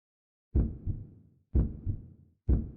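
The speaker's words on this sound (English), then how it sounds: "Oh, the heartbeat stuff is happening again." Heartbeat sound effect from the video game Blank Dream: three loud, close double thumps spaced about a second apart, each with a deep lingering low decay, alone without talk.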